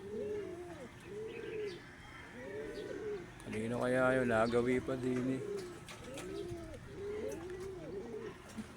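Pigeons coo in repeated soft, rounded phrases at a moderate distance, one burst louder and more layered in the middle, while someone talks quietly over them.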